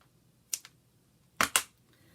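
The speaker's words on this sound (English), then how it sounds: "take it and cut it in half with your scissors" Scissors snip through a 26-inch piece of elastic being cut in half for a face mask: two quick pairs of crisp, close cuts, fairly quiet, with near silence between them.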